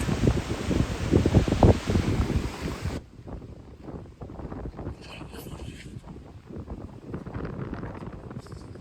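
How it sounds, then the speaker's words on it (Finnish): Strong gusty wind on a rocky Finnish shore roaring and buffeting the microphone, loudest at first, then a steadier rushing blow with rustling, no voices. "Harvoin näkee näin kova tuuli täällä, mutta se on mahdollista."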